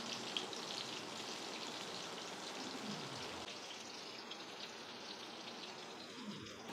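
Plantain slices fry in hot oil, a soft, steady crackle and sizzle heard close but quietly, with no speech over it.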